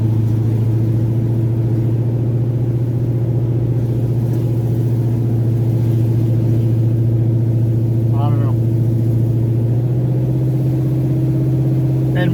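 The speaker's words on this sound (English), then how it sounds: "When we start the car" A car engine idles right after starting, giving a continuous low, steady rumble that stays up close and fills the whole stretch, with someone talking faintly under it.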